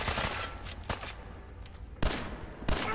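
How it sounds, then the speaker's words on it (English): Gunfire in the video game Fallout 4: several sharp gunshot bursts at irregular intervals, some close and loud, over a steady game background. "Who's shooting us from behind?"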